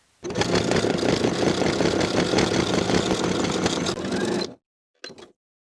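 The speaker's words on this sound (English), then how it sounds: "Now I'll sew the buttonhole in place." A sewing machine stitches a buttonhole on carpenter pants, running as a steady, close mechanical whir for about four seconds before stopping, then giving one short final burst.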